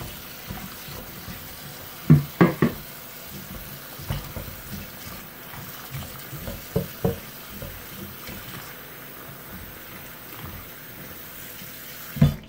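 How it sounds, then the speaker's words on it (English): Water runs from a tap into a pot of sweet potatoes, a faint continuous trickle broken by a few louder knocks and clunks of the pot, with no talking. "I'm going to put water in it"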